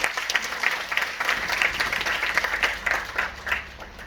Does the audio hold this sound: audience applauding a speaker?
yes